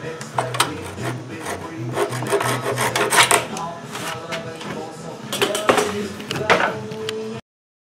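Steady rasping strokes of sandpaper rubbing over pallet wood, repeated in quick back-and-forth bursts with a few sharper taps, close by.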